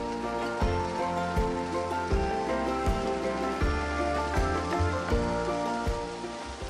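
Noodles sauté in a hot pan with stir-fry sauce, giving a steady, close sizzle and crackle with faint rhythmic ticks running underneath.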